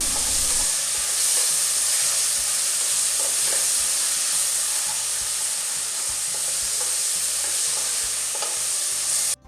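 Mint and coriander leaves sauté in a hot pan for quail dum biryani, giving a steady, close sizzling hiss. Faint stirring scrapes run through it, with no voices.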